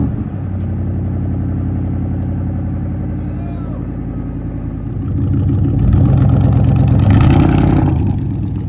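A truck engine is cold-started after sitting unused for a month. The engine runs at a loud, steady idle up close, then rises in a swelling rev before settling back.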